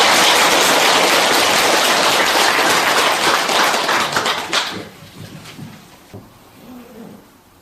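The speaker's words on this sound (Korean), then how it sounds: "우리 선사님을 여러분들 큰 박수로 좀 모셔주시기 바랍니다." An audience at a breathing-meditation gathering breaks into loud, dense clapping to welcome the teacher, sustained for several seconds before tapering off into scattered claps and room quiet.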